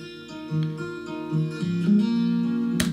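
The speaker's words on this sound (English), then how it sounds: "Very simple acoustic guitar," Simple acoustic guitar music plays alone as a background track, with gently plucked notes and low chords moving steadily for a few seconds before a bright strum near the end.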